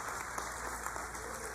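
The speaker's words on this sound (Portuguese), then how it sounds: "Aplauda o Senhor, é Ele que faz isso." A church congregation claps during a worship service, a continuous wash of applause heard at a distance and fairly faint, with murmuring voices underneath.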